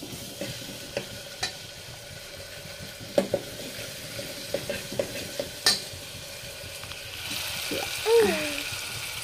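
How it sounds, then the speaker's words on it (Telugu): Ginger garlic paste fries in a pan at home with a low background sizzle and scattered stirring clicks and scrapes, and a voice is briefly heard near the end. "అల్లం తెల్లగడ్డ పేస్ట్ అయితే వేసేస్తున్నా"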